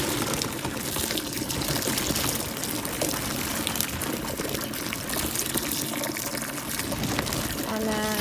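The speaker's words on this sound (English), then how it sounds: "we will dump berries into the bowl so that they can get rinsed" Water runs and splashes over berries in a bowl, a continuous close gushing wash with a person talking over it.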